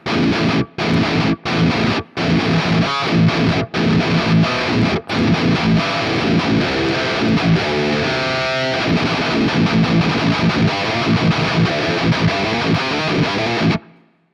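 Heavy distorted electric guitar with stereo reverb, starting with several choppy chugged bursts separated by sharp silences, then a continuous loud crunching riff that cuts off abruptly.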